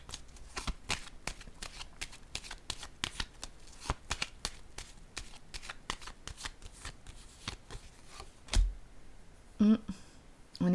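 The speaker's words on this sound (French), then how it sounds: "Je vais déposer une carte sur elle encore." Playing cards are handled and laid down one after another in a steady run of quick, crisp flicks and slaps, close and fairly loud, with a couple of heavier thumps near the end and no voices.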